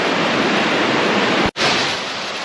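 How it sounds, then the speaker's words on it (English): Waterfall in Shenandoah National Park, a steady loud rush of falling water filling the whole clip, nearby and continuous with a brief dip partway through. "and that's our waterfall."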